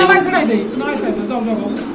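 White Lakha pigeons coo at a pigeon sale, soft throaty calls mixed closely with people talking nearby throughout.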